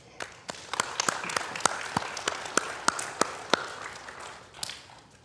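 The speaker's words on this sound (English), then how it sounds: "Give yourselves a big round of applause." A church congregation applauds after a service announcement, a steady patter of many hands clapping at moderate distance with sharper individual claps standing out, lasting several seconds before tapering off.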